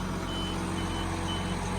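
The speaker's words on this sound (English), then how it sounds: "No, it's still bleeping" A tractor in Farming Simulator 19 sounds its reversing alarm, a steady, insistent electronic beeping over a low engine hum, continuous and fairly close.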